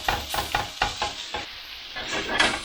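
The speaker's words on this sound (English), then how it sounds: "traditionally all you do is just break it up with a spatula" Rice stir-frying in a hot pan as a spatula breaks it up, with rhythmic scraping strokes over a constant sizzle, close and loud, no voices.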